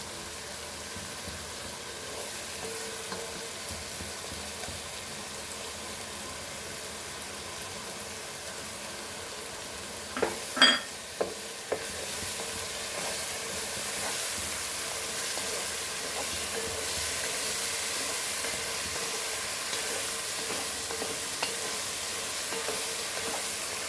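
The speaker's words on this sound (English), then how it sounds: "Fry the masala nicely." Ground green masala frying in a pan for Goan clam pulao, a continuous soft sizzle and hiss with a short burst of stirring clatter partway through.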